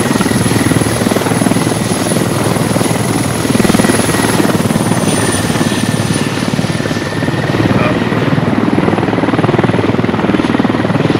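A military helicopter in the game Squad drones steadily and loudly, its main rotor thumping continuously under a high whine with no pauses.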